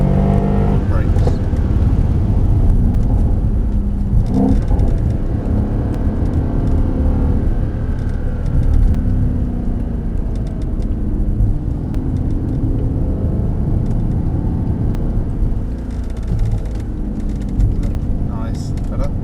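A Mercedes-AMG SL63 lapping the Mercedes-Benz World race track gives a loud, close, continuous engine drone and road rumble that swells slightly as the throttle is fed, holding steady for nearly twenty seconds.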